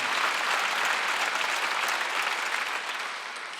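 A church congregation at a Wednesday worship service breaks into loud, sustained applause, dense clapping filling the room with little variation before easing off slightly at the end.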